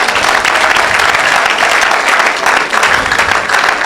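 Worshippers in a church clap loudly together to acclaim Jesus, a thick, steady wash of applause with slight surges, close and full throughout.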